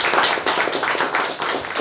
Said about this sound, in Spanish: del poeta y narrador Marco Matos, al cual pido un fuerte aplauso